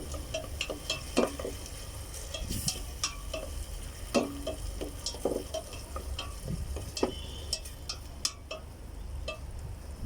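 Tomatoes are added and sautéed in a pan for salmon belly sinigang: a soft, steady sizzle broken by frequent scraping and clicking as the pan is stirred.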